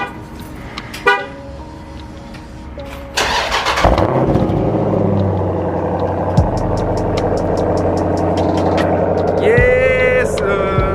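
A Jeep SRT8 fires up from a cold start. A short horn-like chirp comes first, then the engine catches into a loud, sustained exhaust rumble heard close by, with faint voices briefly underneath.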